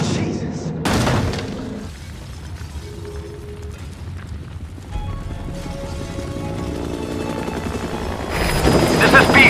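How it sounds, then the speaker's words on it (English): A helicopter's steady rotor drone fills the scene in a Metal Gear Solid-style video game, close and continuous, with a few dull booms and voices speaking over it. "Support helicopter requested."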